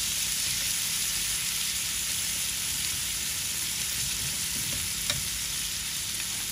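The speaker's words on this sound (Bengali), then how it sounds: "আমাদের পেঁয়াজ ভাজি হয়ে গেছে, কাঁচামরিচ ভাজি হয়ে গেছে, করলা আর আলু দিয়ে দিচ্ছে।" Onion, green chili and bitter gourd fry with potato in a pan, producing a constant, dense sizzle at moderate level with a faint click or two and no speech.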